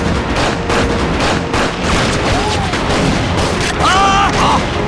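Gunfire from a war drama battle scene against Japanese troops on a mountain, a dense rattle of shots and booms running throughout, loud and continuous, with shouting voices mixed in.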